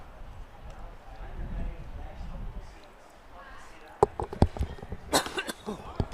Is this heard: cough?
yes